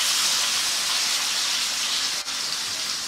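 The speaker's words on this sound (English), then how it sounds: "we're just going to go get this thing seared up" Prime rib searing in a hot pan gives off a loud, steady hiss and sizzle throughout, with one brief click near the end.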